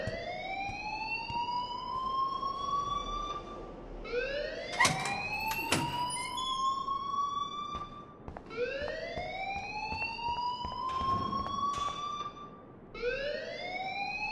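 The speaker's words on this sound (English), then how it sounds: "please turn off that alarm since that's your job" An alarm in a video game wails in repeated rising sweeps, four or so cycles each lasting a few seconds. It sits loud and fairly close, with a few sharp clanks between the sweeps and no speech.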